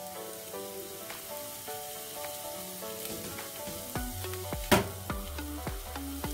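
Spinach filling for samosas frying in a pan, a steady sizzle with stirring scrapes and a sharp clack partway through, while tonal music plays underneath.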